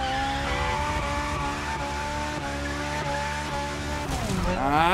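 A Ferrari drifts in The Crew Motorfest racing game, its engine holding a steady high whine with layered tire squeal throughout, rising and sweeping near the end as the slide intensifies and grows louder.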